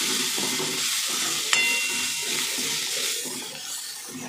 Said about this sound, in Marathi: आता हे सगळं घातल्यानंतर चांगलं परतून घ्यायचं.